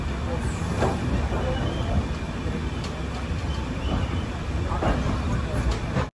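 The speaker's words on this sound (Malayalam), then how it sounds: "ഗോവ സമ്പർക്രാന്തി വന്നത് മഡ്ഗാവ് റെയിൽവേ സ്റ്റേഷൻ്റെ 1-ാം നമ്പർ പ്ലാറ്റ്ഫോമിൽ തന്നെയാണ്" Goa Sampark Kranti express standing at platform 1 of Madgaon Junction, giving a steady, loud rumble of rail noise and station bustle with a few sharp squeals, while people talk under it throughout.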